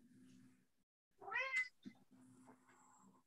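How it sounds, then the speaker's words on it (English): A cat meows once, close and clear, a rising and falling cry standing out over a low steady hum in a quiet room. "Hold the cat up, John."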